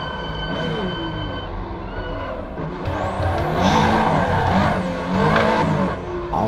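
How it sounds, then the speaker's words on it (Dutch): Tires squeal as a RUF 911 is drifted over a mountain pass in the Assetto Corsa racing game. The engine drones steadily throughout, and two long, loud squealing slides swell in the second half. "Al moet ik zeggen dat deze auto ook wel wil driften"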